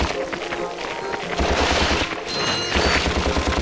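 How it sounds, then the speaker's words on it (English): Rapid video-game gunfire from Ratchet and Clank during a boss fight, dense bursts of automatic shots and blasts pounding continuously and loud, with a heavier rhythmic thumping stretch in the second half. "Pepper it with everything you've got in the ammunition box"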